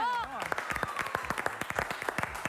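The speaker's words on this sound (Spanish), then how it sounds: "Un aplauso" A studio audience on a Spanish-language morning TV program applauds to welcome a guest, with a steady, fairly close patter of claps that starts right after a brief voice.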